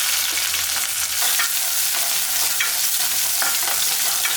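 Small onions with cinnamon, fennel and curry leaves fry in oil for a jackfruit curry, giving a steady, dense sizzle throughout with occasional stirring scrapes, close and fairly loud, with no talking.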